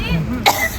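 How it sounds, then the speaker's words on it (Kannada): A single short, loud cough bursts out close by in a lively room, preceded by a brief murmur of voices. "ಸಾಕೆ ಕೆಮ್ಮಿದ್ದು ಹೇಳ."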